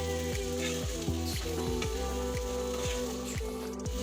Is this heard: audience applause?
no